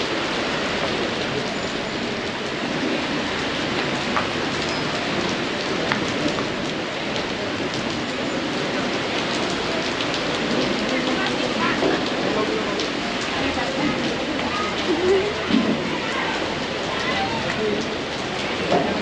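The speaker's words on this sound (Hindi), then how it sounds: "बारिश में शादी का मज़ा।" Steady rain falls on surfaces during an outdoor wedding on the Andaman Islands, a constant close patter lasting throughout, with faint occasional voices and movement in the background.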